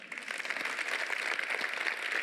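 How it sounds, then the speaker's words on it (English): An audience at a Google Cloud Next conference customer session applauds, a steady wash of many hands clapping at moderate volume that holds throughout the brief moment. "Big round of applause to all of them."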